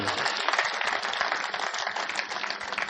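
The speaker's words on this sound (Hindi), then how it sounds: "तालियां बजाइए" Audience at a Hindi kavi sammelan poetry recital in Gurgaon bursts into dense, continuous applause, a crowd of many hands clapping steadily throughout with no voices standing out.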